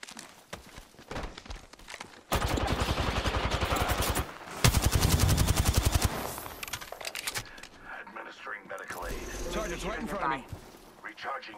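Gunfire from the video game Apex Legends: rapid automatic bursts, loud and dense, run for several seconds. Scattered game effects and movement sounds surround the shooting.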